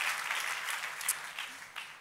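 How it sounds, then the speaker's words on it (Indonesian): A church congregation applauds enthusiastically for Jesus during a service, producing a bright, continuous roar of many clapping hands with occasional louder bursts and faint voices. "Sekali lagi tepuk tangannya paling meriah buat Yesus Tuhan kita."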